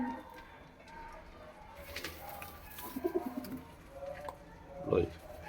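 A white-eyed white male pigeon coos in soft, low bursts, with a short run of coos midway and a stronger coo near the end, over faint background noise.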